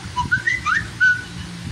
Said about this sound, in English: And whistle. And whistle.